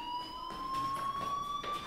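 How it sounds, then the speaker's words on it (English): A steady, shrill electronic fire alarm tone rings through a school building in the video game Life Is Strange, continuous and fairly loud with no voices over it. "do you hear that fire alarm? That means you should be outside."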